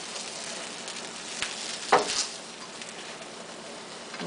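A quesadilla fries in a pan with a faint, steady sizzle and a soft crackle, plus a couple of small clicks partway through.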